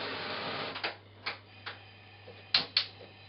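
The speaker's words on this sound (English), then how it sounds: "the first thing we're going to do is turn on the flame" A stove burner is switched on with a short series of sharp ticking clicks from the igniter, over a soft hiss that fades, heard close in a quiet kitchen.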